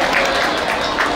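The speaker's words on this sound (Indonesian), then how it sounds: "Tepuk tangan sekali lagi kepada komunitas seni juga" Audience applause for an arts community at a Balinese Calon Arang dance performance, a loud, dense, unbroken roar of clapping heard briefly up close.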